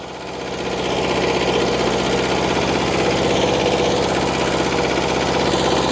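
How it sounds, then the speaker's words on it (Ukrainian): A small garden tractor engine runs steadily and loudly close by on a vegetable plot during potato digging, a rough rapid chugging that holds constant throughout with no voices. "От такий тракторець якраз для таких городів і хороший."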